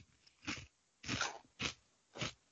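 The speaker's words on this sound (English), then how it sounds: "Just listen for the crunch." Deep River potato chips being bitten and chewed close up, four distinct crisp crunches spaced about half a second apart, with quiet pauses between and no talking.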